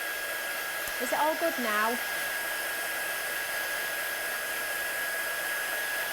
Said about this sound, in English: I'm just going to dry that with my gun or else the ink will go onto my plates.